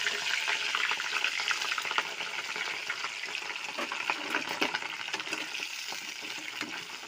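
Cauliflower fries in a pan with a steady, close hiss and crackle, stirred now and then, with no voices.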